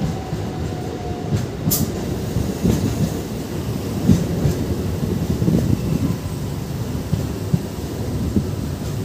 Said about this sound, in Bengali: ফাইনালি আমাদের ট্রেন এসে পৌঁছালো গোঘাট স্টেশনে